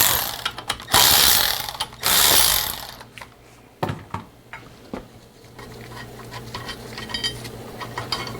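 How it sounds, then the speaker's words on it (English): Ratchet clicks and metallic tool clatter while two bolts are removed from a Mercedes Sprinter transmission, with loud bursts early on followed by sparse, quieter clicking and tapping up close. "So now I'm gonna remove these two bolts over here."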